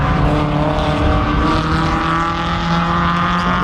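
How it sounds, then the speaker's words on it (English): Mazda MX-5 race cars screaming around Croft circuit in a BRSCC championship race, a loud continuous engine roar of several cars close by with shifting pitch as they pass. "There goes Horobin, then up the inside of George Grant's Mazda MX-5"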